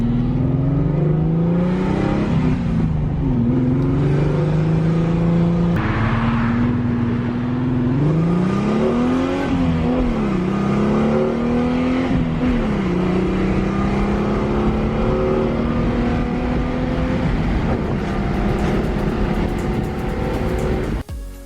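An Alfa Romeo is driven around the Nürburgring Nordschleife, heard from inside with a loud, continuous engine drone whose pitch rises and falls through repeated gear changes and corners over some twenty seconds.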